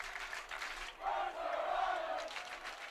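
Crowd of high school kids at a Bellevue versus Mercer Island lacrosse game, a distant roar of yelling and cheering that swells and holds, with a few voices underneath.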